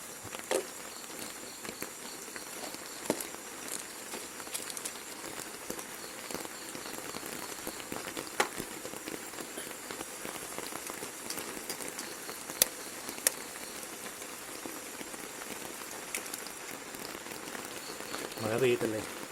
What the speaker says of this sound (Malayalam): മഴ പെയ്യത്തല്ലേ